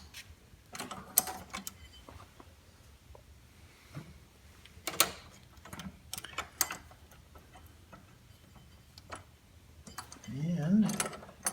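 Ratchet tightening a bolt on a snowthrower during a tune-up: scattered sharp clicks and ticks spread across the stretch, with someone speaking briefly at the end.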